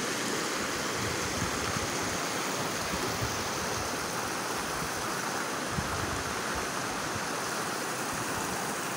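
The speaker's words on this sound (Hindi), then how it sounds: "आइए मैं दिखाता हूँ आपको वही नदी जो हम नीचे देखा था," River water rushes past a rural farm area, a steady broadband flowing noise that stays loud and even throughout with no voices.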